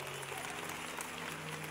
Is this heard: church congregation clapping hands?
yes